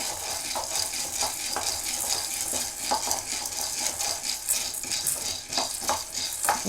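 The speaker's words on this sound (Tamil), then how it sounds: "நம்ம கடலைப்பருப்பையும் வறுத்து எடுத்துக்க போகிறோம்." Chana dal dry-roasts in a pan for paruppu podi, its lentils rattling and scraping under repeated spatula stirs in a brisk, even rhythm, with a faint hiss underneath.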